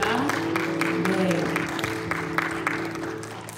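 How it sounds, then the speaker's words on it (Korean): A church congregation applauds during a Sunday worship service, a steady wash of clapping that runs under a voice speaking throughout. "같이 박수로 영광 올려드리겠습니다."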